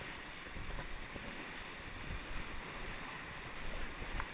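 Kayak paddling on the Skagit River: steady water rush and splashing with soft wind noise, fairly quiet and continuous, with no clear voices.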